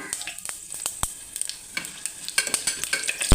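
Whole spices, cinnamon, fennel and cloves, sizzle and crackle in hot oil, with sharp pops and stirring scrapes against the pan, close and busy, growing denser toward the end.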